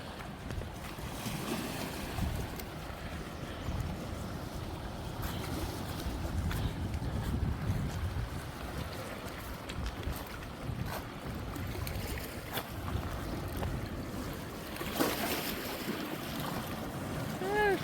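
Small waves lap and break softly against the rocky shore of Lake Superior's North Shore, with gusty wind buffeting the microphone and a faint rumble in the background.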